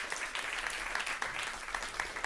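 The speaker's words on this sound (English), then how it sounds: "Give them a round of applause, please." At a fireside chat on storytelling, an audience welcomes two co-founders with a moderate round of applause, a steady patter of many hands clapping at medium volume across a room.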